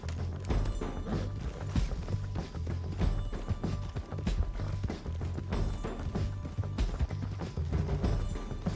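A horse's hooves in Red Dead Redemption 2, a loud, busy run of thudding clops and rattling tack that continues throughout.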